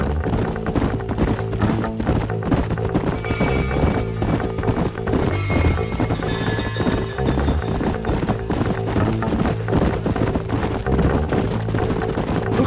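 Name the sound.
horses' hooves clip-clopping in Red Dead Redemption video game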